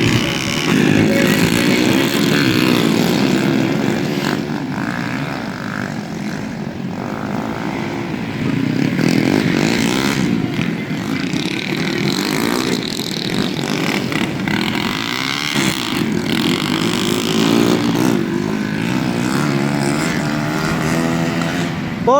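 Racing motorcycles at an open beginners semi-final lap their engines with a loud, continuous droning whine, pitch rising and falling as bikes pass, steady and near throughout.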